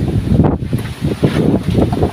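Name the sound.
strong wind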